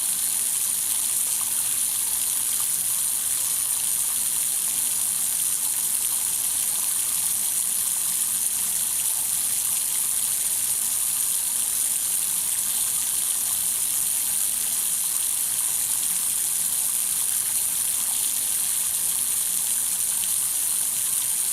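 Water steadily rinsing a nitrated methyl benzoate product into a lab filtration funnel, a continuous hissing gush held at an even, fairly close level throughout with no talking.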